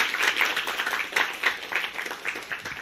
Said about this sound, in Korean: 수고해준 모든 분들을 위해서 박수 한번.